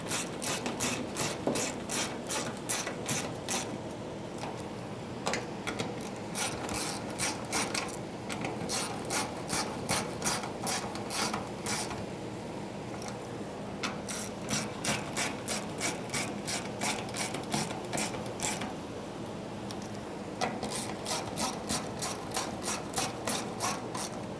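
A ratchet tightens the fuel pump fasteners on a 2012-2017 Toyota Camry, giving quiet, close bursts of rapid clicking in repeated strokes with short pauses between them.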